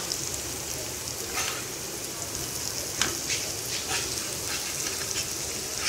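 Jackfruit pieces fry in oil in an uncovered pan as they are flipped, a constant moderate sizzle with a few soft knocks from turning, heard up close with no talking.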